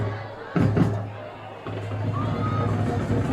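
A large crowd of Raider Nation fans murmurs at a high school football game in a stadium, a steady hubbub with brief louder swells, heard mostly alone.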